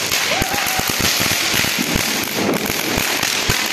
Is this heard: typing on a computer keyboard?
no